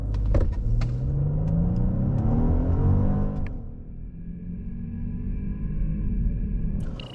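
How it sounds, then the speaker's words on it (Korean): A 2023 Genesis G90 long-wheelbase engine roars as the car launches hard from a stop, its pitch climbing through the gears with a brief dip at a shift, then droning on steadily. "제네시스 G90 발진 가속 성능은 어떤지 볼까요?"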